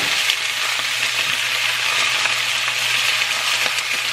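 Oil spattering and sizzling steadily in a hot pan as food fries at home, a dense continuous crackle with faint stirring beneath, no voices.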